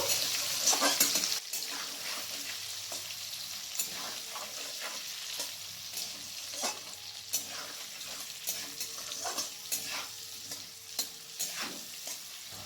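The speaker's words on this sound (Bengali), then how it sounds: "এরপর মিডিয়াম টু লো আঁচে রেখে কিছুক্ষণ সময় ধরে ভালো করে ভেজে নেব" Pieces of yam sizzle in a pan over medium-low heat while a spatula scrapes and stirs them in irregular strokes, close and moderately loud.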